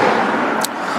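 Passing road traffic near a countryside spot on a late-autumn landscape shoot, a steady close rumble of vehicles throughout with a brief hiss partway through.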